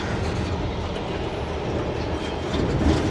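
A zoo train rolling along rails with a steady rumbling roar and faint rhythmic clatter, continuous and fairly close, nobody speaking.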